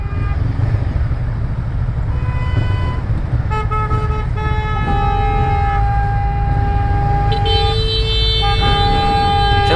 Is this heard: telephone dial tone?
no